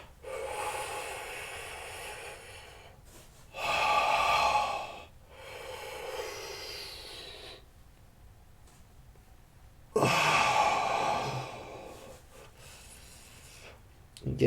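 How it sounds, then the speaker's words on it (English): Slow, deep yoga breaths, several long audible inhales and exhales alternating with quiet pauses, close and fairly loud with no talking. "breathing in deeply here"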